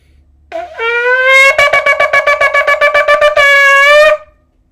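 A shofar sounds loud and close: a rising long blast, then a quick run of about nine to ten short staccato blasts, ending in another long sustained call. No voices.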